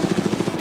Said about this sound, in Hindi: ये हेलीकॉप्टर हमारे बॉयज को ऊपर हवा में ले जाएगा, जिसके बाद वो एक एक करके समुद्र में कूदेंगे।